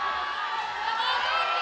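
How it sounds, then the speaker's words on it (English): A crowd at an indoor bouldering climbing competition cheers and whoops continuously, a dense wash of many voices held at a steady level throughout. "you can hear the crowd behind me"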